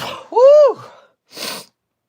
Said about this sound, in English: I got to sneeze again.